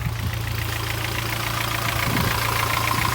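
A Kia Pride with a B1 engine idles close by with a steady, even low chug and a faint rhythmic ticking, running continuously throughout.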